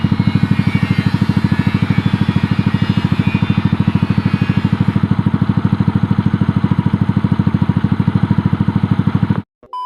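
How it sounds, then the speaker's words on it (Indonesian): Modified Yamaha Mio Sporty scooter fitted with a Caprovic exhaust, idling close up with a steady, even putter that runs unchanged for nearly ten seconds before cutting out abruptly at the end. "Jadi untuk suara knalpotnya kayak gini juga John."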